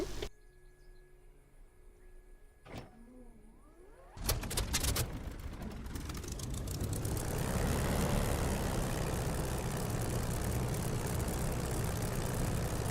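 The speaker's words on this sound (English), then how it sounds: "Right, so I'll get the engine started." An aircraft engine in a flight simulator game coughs into life after a few quiet clicks, then settles into a loud, steady propeller idle that holds and swells slightly over several seconds.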